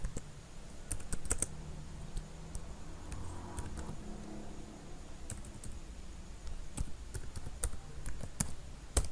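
Computer keyboard typing on a PC while entering a currency into Sage 100 commercial management software: irregular clusters of sharp close clicks spread over a steady low room hum, with no talking.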